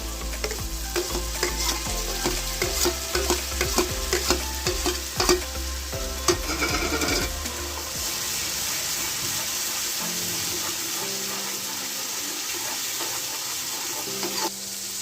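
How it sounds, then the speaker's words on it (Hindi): Onion paste frying in a pan for dal makhani, a loud close sizzle with repeated stirring scrapes for several seconds before settling into a steady, softer hiss. "इसे अच्छे से भूनना है जब तक ये गोल्डन ब्राउन ना हो जाए"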